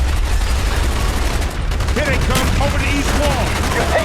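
Rapid automatic gunfire in Call of Duty Black Ops, continuous bursts of shots at steady loudness with voices talking over the firefight.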